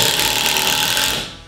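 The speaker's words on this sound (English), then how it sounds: "we're gonna go ahead and pop a bit in this thing. There we go. And we're gonna grab this 2-inch drywall screw" Makita brushless impact driver sinks a 2-inch drywall screw in one loud, continuous whirring burst, tapering off near the end.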